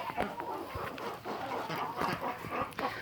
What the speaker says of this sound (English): I know those are silkies